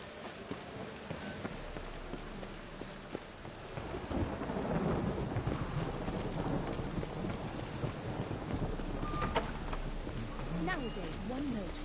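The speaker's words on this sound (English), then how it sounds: "Oh, rain." Steady rain patters and hisses, growing heavier partway through, with low rumbles and faint background sounds throughout.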